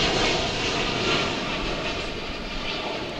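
A UPS Boeing 767 cargo plane flies past at DFW Airport, a broad steady engine roar that fades slightly as it goes, heard from a distance with no talk.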